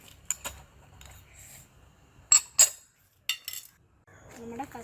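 Peanuts going into a bowl of Lays chaat mix with pumpkin seeds: a few sharp clinks and rattles against the dish in scattered bursts, close and fairly quiet, with soft handling noises between them.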